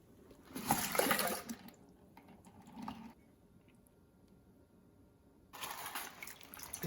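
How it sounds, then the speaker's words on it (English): Homebrew wheat-flour makgeolli rice wine poured from a jar into a filter bag, heard as two soft, close gushing pours of liquid separated by a quiet stretch with a faint patter between them. "Dump it into the filter bag again."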